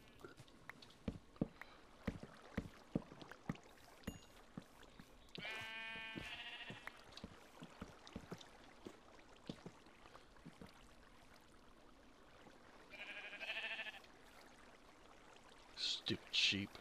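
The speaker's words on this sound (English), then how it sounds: "Stupid sheep." Sheep in the video game Minecraft bleat in a few short, distinct calls, spaced apart among soft footsteps and tapping game sounds, while a voice talks at times.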